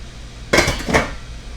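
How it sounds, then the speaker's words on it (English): A big metal pan clanks on a stove, two quick bright metallic knocks close by, then the ringing dies away into quiet. "I'm going to go ahead and get the big pan going here"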